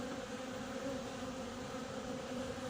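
Honeybees at a horizontal hive make a steady, close droning buzz that holds evenly throughout.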